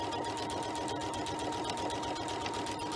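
A sewing machine stitches continuously, quilting a grid into fabric for a tote bag, a close, steady rapid chatter with no pauses.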